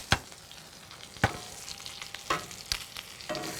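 Calamari pieces go into a hot pan and sizzle close by, with several sharp bursts of crackle as they land and shift, each fading back to a softer fry.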